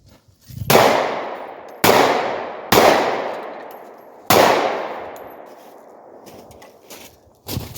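A Glock G43 pistol fitted with a Holosun 507k optic fires five loud, sharp shots at uneven intervals, each crack trailing into a brief echoing decay, with no voices.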